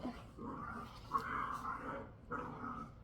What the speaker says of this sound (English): if you can hear the dogs, they're going crazy behind me